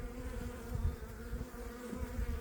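Honeybees from a small three-frame hive colony give off a steady, close buzzing hum with no talk over it.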